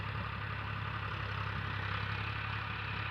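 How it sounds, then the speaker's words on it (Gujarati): A tractor pulling a rotavator runs at a steady, fairly faint engine hum with an even low rumble and no breaks. "સુંદરતાથી રોટર ટ્રેક્ટરમાં હાલી રહ્યા છે"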